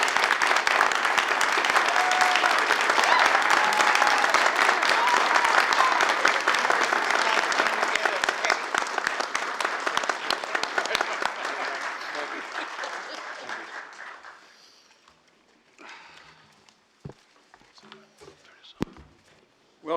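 Audience applause fills a town council planning and development meeting, a long steady burst that thins out after about fourteen seconds into scattered claps and small room noises.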